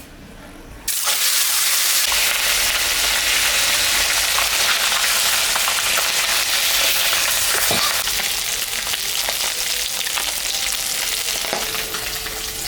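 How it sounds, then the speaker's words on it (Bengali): Loud, steady sizzling of singi fish frying in hot mustard oil, starting abruptly after a quiet moment and continuing as a dense crackling hiss. "এটা গরম হয়ে গেছে আমি এখন মাছটা ভাজবো"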